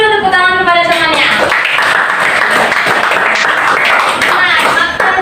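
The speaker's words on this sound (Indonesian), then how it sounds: "Beri dulu tepuk tangan kepada temannya." A classroom of students applauds their classmates, a dense, loud wash of clapping that runs throughout, with voices mixed in near the start.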